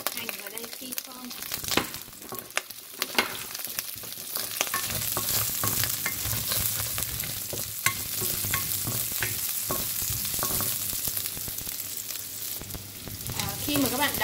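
Onions sizzle steadily in a hot pot while a utensil stirs and scrapes through them, the frying growing louder after the first few seconds.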